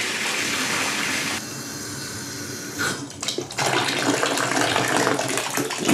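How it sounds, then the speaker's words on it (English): A Woodbridge B-0034 / BTS1611 freestanding whirlpool air tub fills with water, a steady rushing gush that shifts in tone partway through and grows louder and more turbulent toward the end, with no voices. "You want to fill the water above the level of all the holes."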